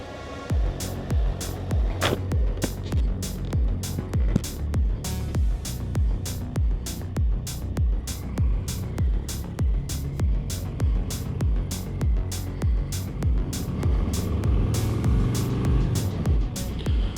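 A Harley-Davidson Low Rider ST motorcycle rides along with a low, steady engine rumble and wind buffeting, continuous and close throughout, with no talk.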